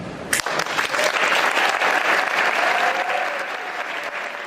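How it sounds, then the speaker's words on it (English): Audience applause breaks out and builds into sustained, dense clapping, loud and steady for several seconds before easing slightly, with no voices rising above it. "Join in the applause, Kieran."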